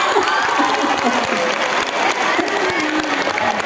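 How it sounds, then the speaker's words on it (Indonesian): An audience at a school student council election event applauds steadily, dense clapping under a murmur of voices that stays even throughout. "Oh, tepuk tangan."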